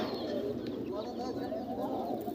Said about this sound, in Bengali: এখানে আরো দুই জোড়া কবুতর আছে